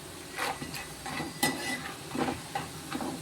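Masala peanuts stirred in a pan, with repeated scraping strokes and light rattling of the nuts over a soft sizzle, roughly four or five stirs in three seconds.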